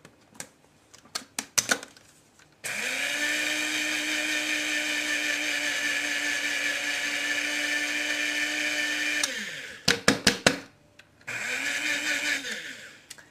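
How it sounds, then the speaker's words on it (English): A food processor grinds 30 grams of sugar to a superfine powder in one loud, steady whir of about seven seconds, then a second short burst. Clicks and bumps sound before and between the runs. "put the sugar in the food processor and process it until it is super fine"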